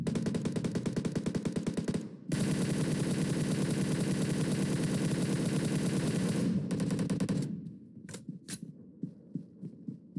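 Video-game gunfire on the Livik map of PUBG Mobile: sustained rapid automatic bursts roar continuously for several seconds, then break off into a few isolated, fainter shots.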